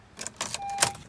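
A key sliding into the ignition of a 2017 Honda Accord makes a quick run of small metallic clicks and a faint jingle of the key ring, close and brief.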